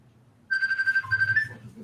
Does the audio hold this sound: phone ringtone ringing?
yes